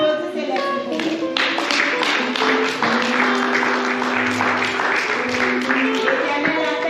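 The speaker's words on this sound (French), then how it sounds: "Applaudissez les filles." Congregation clapping for the girls during a church celebration of a sister's 80th birthday, steady hand claps running under singing voices and music throughout.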